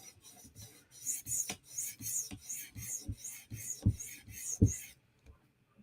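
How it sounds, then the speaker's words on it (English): A knife edge stroked forward and back on a 400 grit sharpening stone while sharpening a PM2 tanto, a close series of about nine rhythmic raspy scrapes, each with a soft knock, then silence. "Forward and backward strokes with the 400 grit stone to look for any big scratches in the previous stone's scratch pattern."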